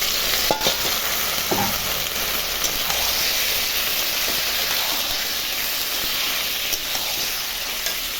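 Meat with added spices fries in a pot, giving a steady close hiss and sizzle throughout, with a few faint clinks of stirring.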